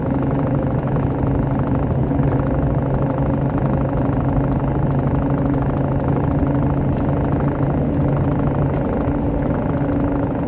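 Cabin of a RAM 1500 pickup cruising at highway speed on Cooper Discoverer STT Pro tires, a steady loud low drone of engine and tire roar that stays constant throughout.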